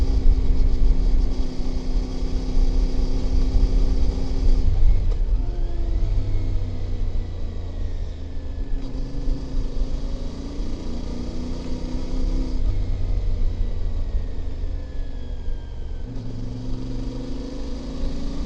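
A vehicle engine driving narrow country roads through forest, a continuous loud drone that drops and rises in pitch at several gear shifts, with no talk.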